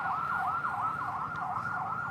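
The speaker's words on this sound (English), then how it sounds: "Some kind of emergency vehicle, not an ambulance." An emergency vehicle siren, not an ambulance, wails on a Thai street in a steady rising-and-falling cycle, about four sweeps, loud and fairly near over low traffic rumble.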